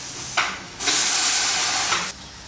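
A pressure cooker lets off steam: a short hissing burst, a brief pause, then a loud sustained hiss of over a second that cuts off sharply, heard alone and close.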